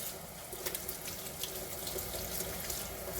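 Warm water runs steadily from a tap into a sink while a mustard-stained shirt is washed with laundry detergent, a close, continuous splashing hiss with no pauses.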